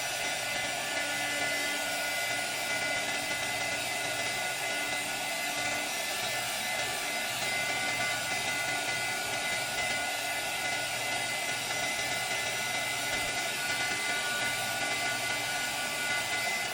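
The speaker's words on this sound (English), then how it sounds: "I want to use this heat gun now and see." Heat gun blowing hot air over resin poured into molds, a steady loud hiss with a constant roar that holds unchanged from start to finish, no voices.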